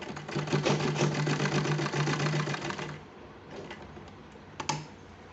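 A sewing machine stitches a small child's kurta in one steady burst of fast, even needle chatter, then stops, leaving quiet rustling and a brief clack.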